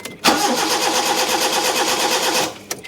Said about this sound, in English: it primes for a few seconds, then it starts running again while it's cranking